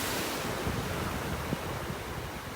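Ocean surf washes onto a beach in North Naples, Florida, on a windy morning, a dense, steady roar with faint wind rumble and no voices.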